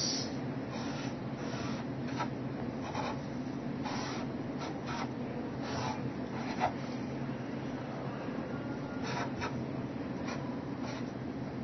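A pen scratches across a surface while drawing a supply and demand diagram, heard as close, continuous scratching with repeated short strokes over steady background noise.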